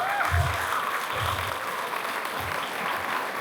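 An audience at a speech event claps in a dense, even wash of applause that holds steady throughout without talk.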